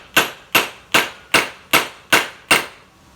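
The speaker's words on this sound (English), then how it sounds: "sort of working the hammer around in a circle so that it's not trying to push one side" Seven evenly spaced, sharp metallic hammer blows ring out up close at a steady rhythm, tapping a tensioner bearing into place in a DIY repair, the hammer worked around its rim.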